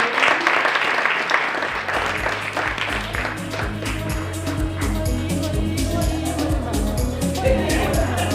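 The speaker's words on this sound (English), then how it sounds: "Can we give her another round of applause" An audience at an awards ceremony gives sustained applause, a dense close wash of clapping that holds steady throughout, with a low steady tone running underneath.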